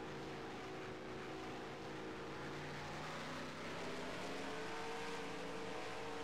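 A NASCAR race car engine in the NASCAR Racing 2003 video game holds a steady droning hum at half throttle, continuous and even with harmonic layers, rising slightly in pitch and volume midway, with no talk over it.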